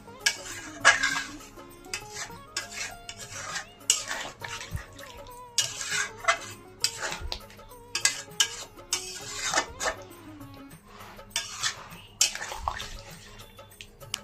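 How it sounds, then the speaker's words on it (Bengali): Egg, cauliflower and pea curry with a splash of water being stirred in a pan: repeated clattering scrapes and knocks of a utensil in bursts, over a soft wet bubbling, with no speech. "এখন ভালো করে নাড়িয়ে চাড়িয়ে দিচ্ছি।"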